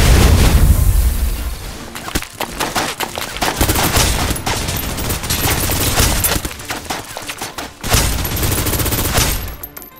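Suppressive gunfire in the video game Snowbreak Containment Zone: a loud, dense fusillade of rapid shots with booming impacts, nearly continuous across the span, briefly dipping before a renewed burst.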